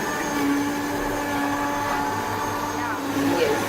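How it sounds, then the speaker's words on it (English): A kitchen blender runs steadily, blending ingredients with a loud, constant motor whine and rising pitch near the end, while people talk over it. "Now we blend it."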